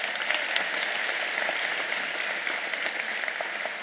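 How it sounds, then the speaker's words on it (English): Continuous crowd applause at a University of Houston graduation ceremony, an even, dense wash of clapping from a large audience, moderately loud and unbroken, with no talk. "Big round of applause."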